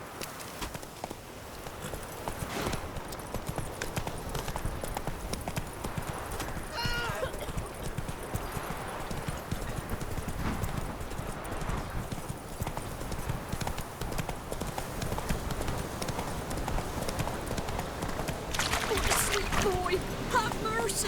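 Horse hooves clip-clop steadily in The Witcher 3, a continuous close walking rhythm that runs throughout with speech over it.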